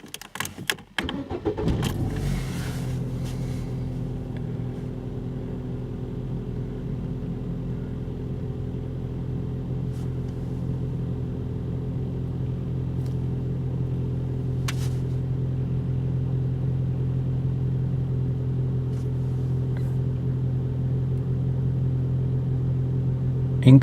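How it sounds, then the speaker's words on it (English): A 2004 Opel Astra engine cranks briefly with a jangle of keys, catches, then settles into a steady, low, even idle that hums on alone for over twenty seconds. "Start the engine."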